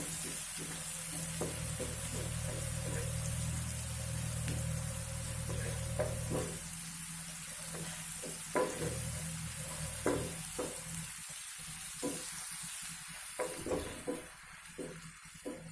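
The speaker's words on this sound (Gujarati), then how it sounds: "લીલું લસણ આપણું સંતળાઈ ગયું છે" Green garlic sautés in a pan with a constant frying sizzle, while repeated stirring scrapes and taps of a spoon come through more clearly in the second half.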